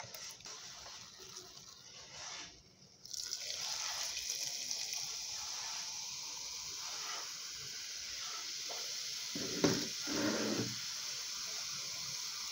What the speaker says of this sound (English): Next, I'm gonna pour in 35 cl of Coke.